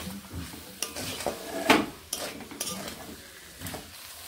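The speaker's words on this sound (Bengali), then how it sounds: "এবার আমি এখানে ভেজে রাখা আলুগুলোকে দিয়ে দিচ্ছি। আলুর সঙ্গে মশলাগুলো মিশিয়ে আর 2 থেকে 3 মিনিট কষিয়ে নেব।" Pre-fried potatoes are stirred with spices in a pan for a Bengali pabda fish curry, producing soft sizzling under irregular scraping and clanking strokes of a spoon, close and moderately loud.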